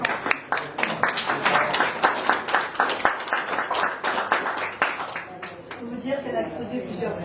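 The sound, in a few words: audience applause at art exhibition opening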